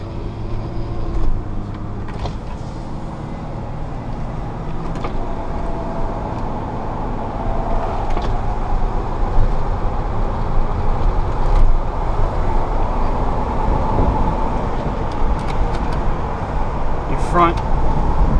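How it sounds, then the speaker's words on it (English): A 1999 Toyota 4Runner Limited 4x4 idles with its engine running smoothly, a steady low rumble that continues throughout, with someone talking over it. "Engine starts up and runs with no issues."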